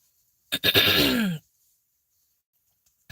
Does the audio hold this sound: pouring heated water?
no